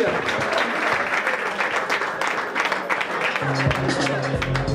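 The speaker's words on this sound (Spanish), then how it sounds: "Un aplauso para todos ellos," Audience applause at a live rap concert in Guayaquil, Ecuador: dense, steady clapping from a crowd fills the space, with a voice and low musical tones coming in near the end.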